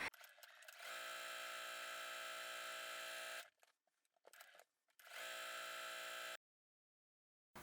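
Sewing machine runs in two steady whirring bursts while topstitching a square border on a kitchen cloth, with a short quiet gap of small handling noises between them; fairly faint and close.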